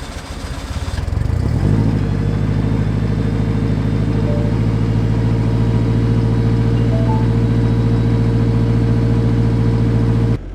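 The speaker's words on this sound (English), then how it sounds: "you want to get a sick cold start of the Civic, man? Cover your ears." A Honda Civic sleeper engine cold-starts with a brief cranking whir, then catches into a loud, steady, high idle that drones on close by until cut off at the end.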